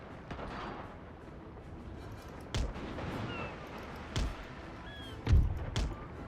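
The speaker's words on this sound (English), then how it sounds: "Ooh! Massive explosion." Naval gunfire and a massive ship explosion in The Great War strategy game, heard as several heavy booms spaced a second or two apart, the loudest near the end, over a low rumbling background.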